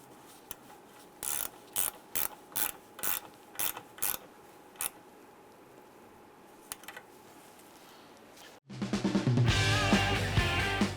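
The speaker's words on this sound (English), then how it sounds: "go ahead and tighten down our bolt here" A ratchet tightens the alternator's positive terminal bolt on a 2002-2008 Dodge Ram 1500 in about eight quick, evenly spaced clicks, close and clear, with a lone click after them and then a louder unrelated burst of sound.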